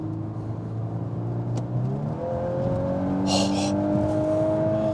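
A 2022 VW Golf R driven hard through corners, its engine note rising and holding steady at high revs for several seconds, close and loud, with brief tire or wind noise partway through.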